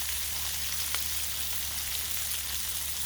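Food sizzles on a Blackstone griddle as bacon cooks, a continuous even frying hiss up close with no talk.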